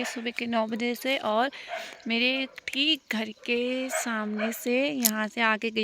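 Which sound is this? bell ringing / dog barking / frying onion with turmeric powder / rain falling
dog barking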